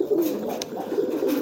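A pigeon coos softly and repeatedly at close range, with low, rounded, rolling calls over faint background noise.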